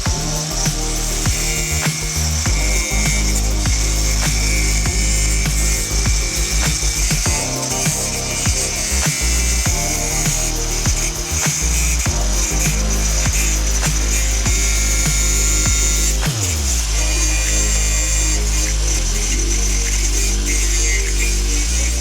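A power tool cuts a metal part for a Miata brake kit, giving a loud, constant, close grinding whine with a rough mechanical rattle. The noise changes pitch partway through and carries on without pause.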